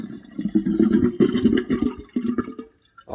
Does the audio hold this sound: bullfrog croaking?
no